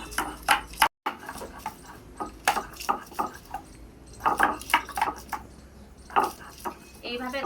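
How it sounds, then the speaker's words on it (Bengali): Garlic crushed on a shil pata grinding stone, with repeated rough scraping and grinding strokes in an uneven rhythm, close and fairly loud, with a brief break near the start. "এবার রসুনগুলো আমি বেটে নেব।"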